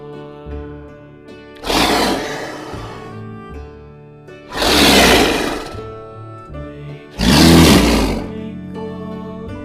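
A leopard roar in a Bengali children's alphabet song bursts out three times at even intervals, loud and rough, over a soft backing tune.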